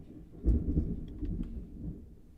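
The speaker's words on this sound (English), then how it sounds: "The storms are brewing!" Thunder from a building storm gives a low, rolling rumble that swells after a moment and slowly fades. It sounds muffled, as if heard from indoors, and no one talks.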